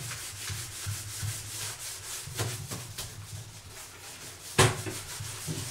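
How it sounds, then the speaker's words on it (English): A terry cloth scrubs a bathtub surface in close, uneven rubbing strokes, with a sharp knock partway through as an arm strikes the drain. "the terry cloth actually has a little bit more scrubbing because of the fibers in it"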